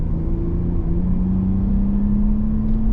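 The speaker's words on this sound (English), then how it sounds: "This car has a little bit of an exhaust note" A 2022 Toyota Camry TRD cruising onto a freeway, its engine and exhaust giving a steady low drone with a faint rising tone, close and continuous with no talk.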